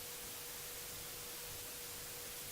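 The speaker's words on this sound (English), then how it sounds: "White noise is nothing but background noise." White noise sample played in FL Studio for a remix, a steady, even hiss spread across the whole range, constant and quiet with no voices.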